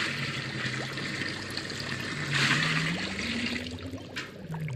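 Water pours steadily into a witch's cauldron, a continuous splashing trickle with a faint rising tone underneath, fairly close and alone.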